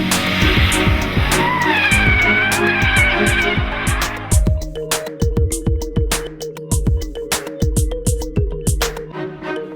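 A Lexus IS F engine rises and falls in a series of sharp throttle blips on downshifts, punchy repeated bursts over a whining engine note that gives way to a clipped, pulsing rhythm.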